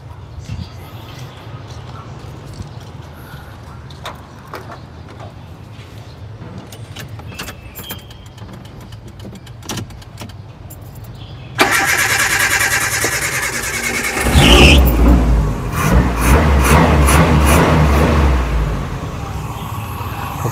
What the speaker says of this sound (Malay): Sekarang kita nak try hidup yang kita dah tukar starter baru.